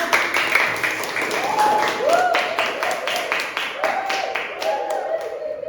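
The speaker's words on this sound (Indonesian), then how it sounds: "Tepuk tangan untuk Mas." Primary school class of pupils clapping in a classroom lesson, a brisk, fairly close burst of applause with a teacher's voice speaking over it.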